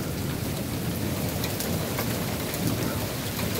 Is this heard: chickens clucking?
no